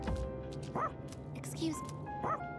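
A dog in the video game Persona 3 Reload gives two short, high-pitched yipping barks about a second and a half apart, clear and close over a soft in-game background.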